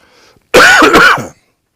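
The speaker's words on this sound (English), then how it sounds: "I have a little cough today." A single close, loud human cough, a harsh throat-clearing burst lasting under a second, alone with near silence before and after.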